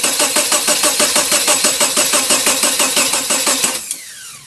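A turbocharged Subaru EA82T engine cranks over on the starter with a steady, rapid rhythmic chugging for almost four seconds, close and loud, then cuts off abruptly.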